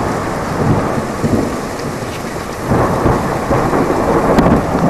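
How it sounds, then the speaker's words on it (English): Rolling thunder rumbles through a thunderstorm over steady heavy rain drumming on surfaces, loud and continuous, swelling again partway through with a few sharper cracks. "did y'all hear that lightning bolt?"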